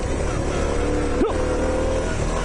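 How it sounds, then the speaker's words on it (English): Postie motorbike ridden along a rough four-wheel-drive track, its engine droning steadily and close with a brief pitch swoop midway. "On Charlie the postie bike"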